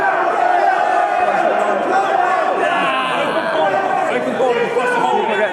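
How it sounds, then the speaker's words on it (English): A large crowd packed into a high street, dense overlapping chatter and shouting from many voices, loud and continuous throughout. "now it's kind of escalated into a huge crowd"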